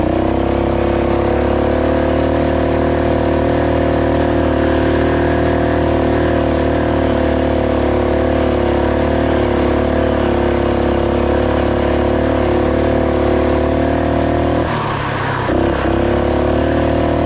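Two-wheel-drive Roko Ranger mini bike ridden off road, its small engine droning loud and steady at high revs for a long stretch, briefly dropping and surging near the end, with no talking.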